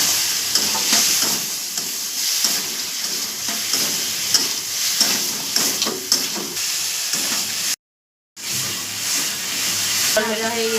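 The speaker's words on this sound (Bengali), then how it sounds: "ভেজে রাখা বেগুন দিয়ে দেবো।" Fried eggplant stirred into sizzling spices in a pan for a Bengali fish curry, a steady loud frying hiss with scraping stir strokes throughout, a brief dropout near the end.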